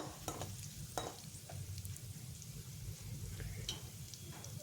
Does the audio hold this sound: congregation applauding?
no